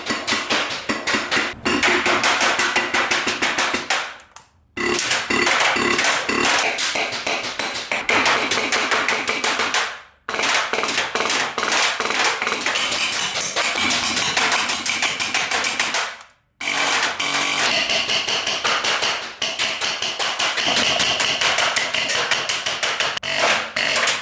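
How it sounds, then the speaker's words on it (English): HPA gel blasters of several different builds fired at a firing range, dense rapid streams of sharp snapping shots in long bursts broken by brief pauses, loud and close, no talk. "As you can see, obviously they're all shooting very differently as they're all different builds"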